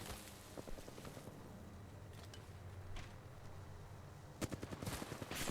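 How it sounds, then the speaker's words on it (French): A video game shootout carries bursts of rapid gunfire, quiet and distant at first, then louder rattling volleys near the end over a steady background din. "J'essuie des tirs."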